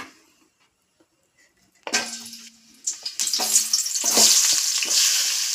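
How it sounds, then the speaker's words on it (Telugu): Onions go into about four tablespoons of heated oil after near silence, starting a sharp sizzle that swells into steady, loud, close frying with short scrapes of stirring. "ఒక 4 టేబుల్ స్పూన్ ఆయిల్ కొంచెం వేడైన తర్వాత ఆనియన్స్ వేసుకుందాం."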